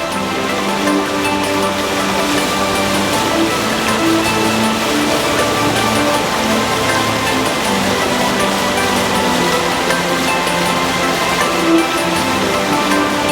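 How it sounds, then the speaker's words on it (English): The Revadaskongas waterfalls in Lemmenjoki park give a loud, continuous roar of rushing water, steady throughout with no other sounds. "The picturesque beauty of the Revadaskongas waterfalls is a truly overwhelming sight"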